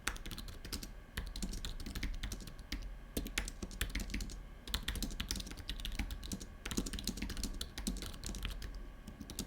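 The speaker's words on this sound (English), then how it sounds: "I'm gonna do a little type test for you now." Rapid, uneven clicking of keys on an Apple Magic Keyboard with Touch ID, close up and continuous, with brief pauses between bursts of typing.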